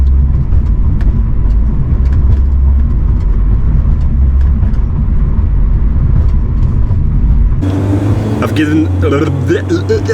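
A BMW E36 touring car driving on the road, its engine drone loud and steady with low rumble and tire roar, shifting in tone near the end as the cabin sound changes; a person talks over it.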